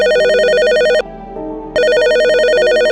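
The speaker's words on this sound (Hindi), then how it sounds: "रात के ठीक 12 बजे रिसेप्शन का फोन बज उठा।" A hotel reception desk telephone rings loudly and close, two electronic ring bursts separated by a short pause of quieter background.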